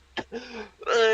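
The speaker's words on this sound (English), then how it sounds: "I don't think it's safe you being here coughing around people." A single throat clearing, a short harsh burst followed by a rougher vocal scrape, then a voice begins speaking, heard close and fairly quiet in a mock debate scene.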